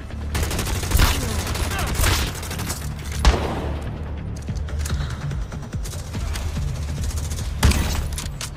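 Gunfire in the shooter game The Division Resurgence: a dense, continuous fusillade of loud overlapping shots and bursts, punctuated by a few sharper cracks and booms, with no voices heard.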